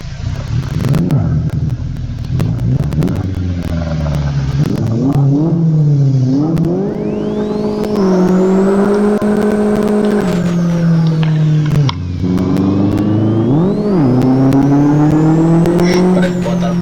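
A Chevette 1.6 turbo revs hard and loud through a burnout drift, the engine note climbing and dropping in repeated surges with a whining turbo and tire squeal, a voice briefly heard underneath.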